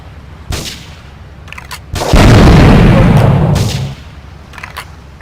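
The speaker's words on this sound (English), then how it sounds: "investigate reports of gunfire and explosions" Gunfire and explosions in the video game GTA IV at a harbor: a sharp boom, then a loud sustained burst of rumbling blasts and crackling shots lasting about two seconds, with scattered lighter pops before and after.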